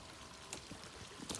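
Rainwater runs down a sloping farmyard like a river, a faint, steady rushing trickle with a couple of slightly louder splashes.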